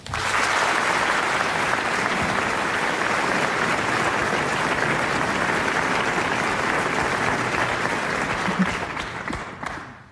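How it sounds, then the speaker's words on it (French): A theatre audience at a France Inter evening storytelling show gives a full, sustained round of applause for a performer coming on stage, loud and even for several seconds before fading out. "Merci d'applaudir Lucie Retaille"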